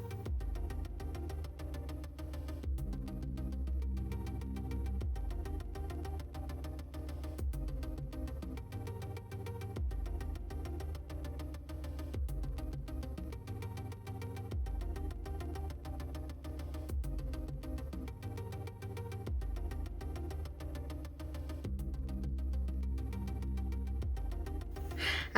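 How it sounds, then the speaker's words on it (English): A home sewing machine stitches pieces of an unlined red blazer, a steady low mechanical hum running in repeated runs with short pauses between seams, fairly quiet and without talk. "I'm just gonna go and stitch this up"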